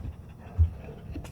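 A dog at a dog park pants close by in quick, breathy rhythm, with a soft low thump partway through and a faint whimpering note near the end.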